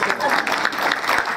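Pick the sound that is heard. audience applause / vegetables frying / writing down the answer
audience applause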